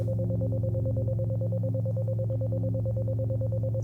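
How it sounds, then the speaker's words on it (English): A 528 Hz isochronic tone built in Ableton for sound healing pulses rapidly and evenly, a steady bright tone over low sustained drone layers, constant in level throughout. "So isochronic tones, right?"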